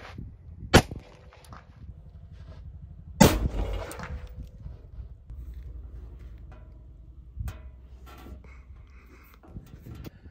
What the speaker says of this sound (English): Shooting a pumpkin with the Army's new spear.